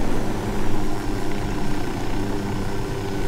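A helicopter flies and touches down in the video game Ghost Recon Wildlands. Its engine and rotor make a steady, loud, dense whirring roar throughout, with no voice over it.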